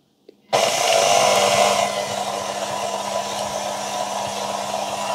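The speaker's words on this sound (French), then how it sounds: "Donc voilà, laminoir à pâte." A small pasta roller machine runs steadily, setting in abruptly with a loud whirring grind that eases slightly after a second and then holds a constant close hum.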